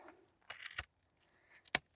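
Pruning cutters snip through thin moringa tree branches outdoors, giving a few sharp, quick clicks and crunchy snaps with short silences between them.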